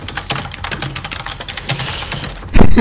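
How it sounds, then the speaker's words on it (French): Fast, furious typing on a computer keyboard during co-op play of Killing Floor 2, a dense close clatter of rapid key presses, ending in a louder thump at the end. "On sent le gars qui se déchaîne sur le clavier."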